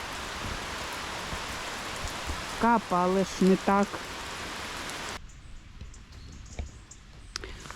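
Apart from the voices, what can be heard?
rain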